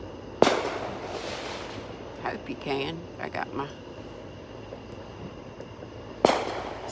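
Distant fireworks burst outdoors at night, two sharp pops roughly six seconds apart with faint crackling in between, while someone talks quietly over the scene.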